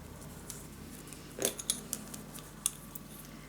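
Scissors snip through craft paper while a piece is cut out for a Christmas scrapbook mini album: a few short, crisp cuts close by in a quiet room.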